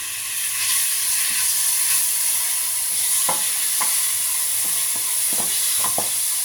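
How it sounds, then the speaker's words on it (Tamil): Three large onions sauté lightly in a pan with an even, steady sizzle, punctuated by several sharp taps and scrapes of a stirring utensil in the second half. "இப்போது போட போகிறது ஆனியன். இது வந்து 3 ஆனியன்,"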